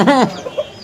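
A rooster being shown for sale lets out one short, loud cluck up close, followed by a couple of faint softer sounds.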